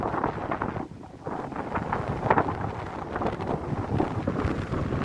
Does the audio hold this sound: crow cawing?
no